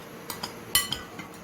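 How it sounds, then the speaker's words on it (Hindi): A spoon stirring gulab jamun dough with oil in a bowl, giving a few light scattered clinks and taps against the bowl over a soft background, close but faint. "इसको जो है हम चम्मच की मदद से इसको ऐसे मिक्स करते हैं"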